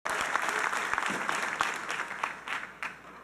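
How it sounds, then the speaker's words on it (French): Steady audience applause at a church general conference plenary session, a dense wash of many hands clapping that holds throughout and thins slightly toward the end. "Alors, applaudissons-les."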